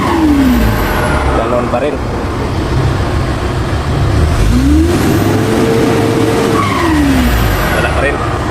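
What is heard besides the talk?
Hino 500 series truck engine being started and revved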